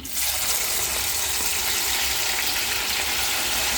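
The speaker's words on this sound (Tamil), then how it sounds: "வெங்காயத்தை நாங்கள் பொறிச்செடுப்போம்" Onions frying in hot oil for fried pittu, giving a steady, dense sizzle that stays even and fairly loud for the whole stretch with no talking.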